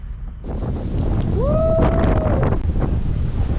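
Steady, heavy wind roaring and buffeting the microphone, a continuous low rumble with a brief tonal whine partway through.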